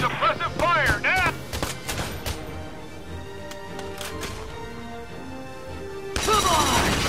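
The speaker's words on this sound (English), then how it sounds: "We need suppressive fire now." Suppressive gunfire in the tactical game Valkyria Chronicles 4, sharp scattered shots and bursts over a steady background of battle noise and music, with a louder flurry at the end.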